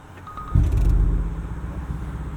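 A 2024 Porsche Cayenne Turbo E-Hybrid Coupe's V8 engine starts with a sudden low rumble partway through, then settles into a steady, deep idle heard from inside the cabin.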